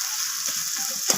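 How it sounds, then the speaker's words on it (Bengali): Tomatoes and onions sizzling in a pan, a steady close hiss of frying with a brief louder crackle or stir near the end; no voices. "টমেটোটাকেও আমি পেঁয়াজের সাথে ভেজে নেব নরম হওয়া পর্যন্ত"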